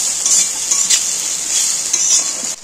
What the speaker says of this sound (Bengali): এর গায়ের এটাও বেশ ভাজা ভাজা হয়ে যাবে